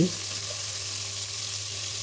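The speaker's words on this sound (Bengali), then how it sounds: "এক পাশ খুব সুন্দর করে ভাজা হয়ে গেলে আমি আবার উল্টে দিচ্ছি" Chicken pieces frying in oil after being flipped, a close, steady hiss of sizzling that stays level for a couple of seconds over a low hum.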